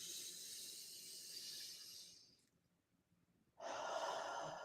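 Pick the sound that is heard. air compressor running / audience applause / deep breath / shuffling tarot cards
deep breath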